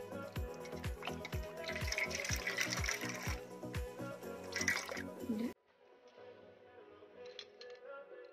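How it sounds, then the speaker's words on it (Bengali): A handkerchief is soaked and squeezed in a bowl of warm salt water, making a run of small drips and wet splashes up close before the sound cuts to near-quiet. "এই যে রুমাল আমি এর মধ্যে ভিজিয়ে নিচ্ছি।"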